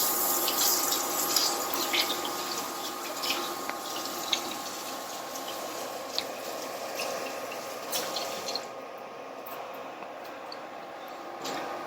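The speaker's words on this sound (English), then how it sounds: "I'm going to wash my hands real quick." Hands being washed under a running tap at a kitchen sink, a steady faint water hiss running throughout with small splashes and clinks, then the flow cuts off near the end.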